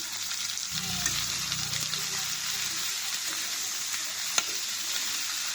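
Minced chicken frying in a pan with green and dried chillies and salt, a steady close sizzle with stirring scrapes and a brief low rumble early on, plus one sharp clack near the end.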